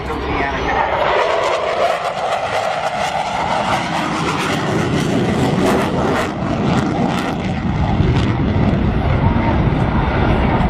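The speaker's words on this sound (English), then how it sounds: "there's your upright roll of the F-14 Tomcat" An F-14 Tomcat flying an upright roll at an airshow at NAS Oceana, a steady, loud, harsh jet roar that holds throughout with a rumbling, crackling texture and no voices over it.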